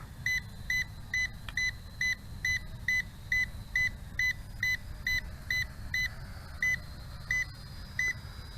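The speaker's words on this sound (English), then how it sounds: "Okay, the beep has slowed down, and it's a longer beeping now" A GPS FPV drone sounds its low-battery warning as a series of short, evenly spaced high electronic beeps. A faint low rumble sits underneath and the gaps widen slightly toward the end.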